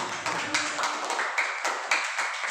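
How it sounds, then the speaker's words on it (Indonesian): A classroom audience claps for a teacher training session on physical education teaching in Indonesia, a brief burst of scattered hand claps with soft murmuring underneath. "Terima kasih, berikan aplaus."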